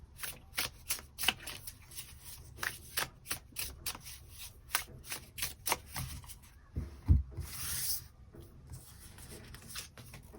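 Tarot cards are shuffled by hand in a run of quick, crisp riffling slaps at an even rhythm, close and clear, then a pause, a soft thump and a longer sliding rustle as cards are drawn.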